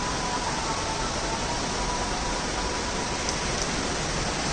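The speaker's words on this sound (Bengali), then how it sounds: "কেমন বৃষ্টি শুরু হয়েছে দেখো, পুরো ধোয়া চারিদিক" Heavy rain pours steadily outdoors, a dense, continuous hiss with no breaks, loud and close throughout with no voices.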